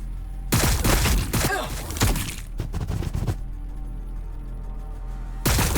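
Gunfire in the Warhammer 40k Battlesector strategy game, with dense bursts of rapid shots and cracks starting loud, a second cluster of volleys, a quieter stretch, then another burst at the end.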